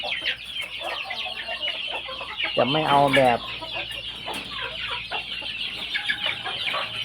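Several chickens cluck close by on a farm, with one loud drawn-out squawk midway, while someone speaks briefly.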